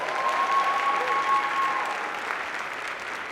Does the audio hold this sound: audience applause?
yes